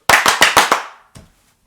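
Five sharp hand claps in quick, even succession, loud and close, followed by a single fainter clap after a short pause; no talking.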